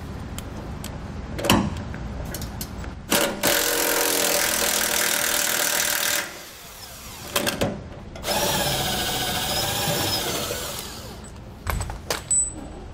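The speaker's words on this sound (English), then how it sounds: "we can go ahead and remove our outermost bolt on our leaf spring" A power tool whirs in two long bursts, with short clicks and clunks in between, while removing a bolt from a leaf spring on a Dexter E-Z Flex trailer suspension. The sound is close and loud.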